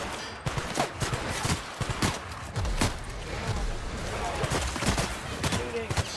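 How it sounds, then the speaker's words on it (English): Sustained bursts of gunfire fill a firefight in The Outer Worlds, with dense, rapid shots piling over one another at a loud, constant level throughout. "Shooting."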